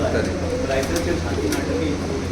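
Teddy pigeons coo softly throughout a crowded pigeon loft. The low, rolling calls overlap steadily under a faint background hum.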